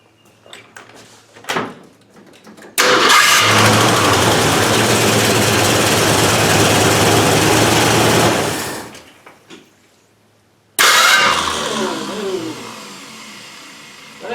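A 1967 Ford Mustang fastback engine cranks hard on a new starter, a loud steady churning that runs several seconds, stops, then a second burst of cranking follows after a short pause.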